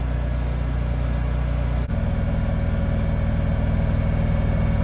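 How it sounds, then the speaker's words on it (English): A Lincoln Trailblazer engine-driven welder idles low, then steps up to a higher idle with a steady pulsing throb, close and alone with no talk. "We turn it on, Trailblazer idles up."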